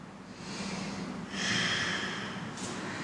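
Someone doing a yoga twist at home breathes audibly through the nose, a soft steady inhale swelling into a stronger, slightly louder exhale, close and quiet with no talking.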